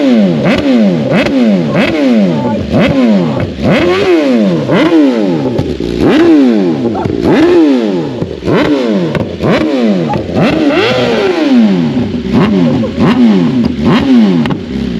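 A BMW M1000RR with a Stage 2 Bren flash revs repeatedly and loudly up close, each sharp rise in pitch falling back, in a steady rhythm of about a dozen blips with crackling pops, and no talking.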